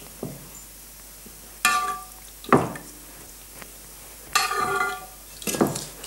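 Lardons sizzle with egg in a smoking-hot frying pan, with two louder bursts of frying and several clinks and scrapes of a utensil against the pan, close and without talk.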